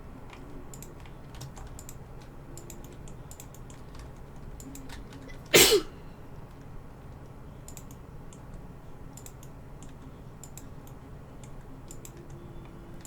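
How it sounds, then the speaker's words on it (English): A single short, sharp sneeze bursts out midway through steady keyboard typing and light clicking. "I need to stop sneezing."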